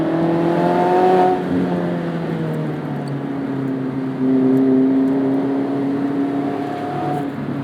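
Mazda MX-5 Miata running on E85 through canyon roads, its engine note rising and falling in pitch with throttle changes, steady road noise underneath.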